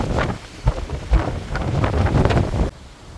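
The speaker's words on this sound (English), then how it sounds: "the wind is absolutely battering us" Strong wind on an exposed mountain summit during an ice storm buffets the microphone with loud, roaring gusts for several seconds, then drops off sharply into quieter rumble.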